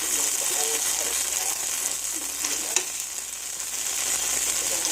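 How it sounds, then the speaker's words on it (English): Ingredients for black bean noodles fry in a hot pan with a steady, loud, close hiss of sizzling oil that holds unbroken throughout, and no voices. "Let it fry up, and then I'm going to mix the vegetables in."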